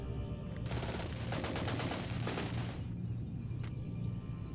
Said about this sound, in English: The headquarters is attacked by the assassins. Gunshots are heard.